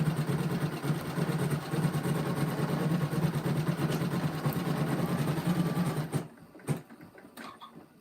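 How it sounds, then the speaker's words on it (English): A sewing machine's separate bobbin-winder motor spins yellow thread onto a bobbin with a steady, close mechanical whir and hum, then stops abruptly, leaving a few faint clicks and taps. "What's nice about this bobbin winder on this machine is it has a separate motor"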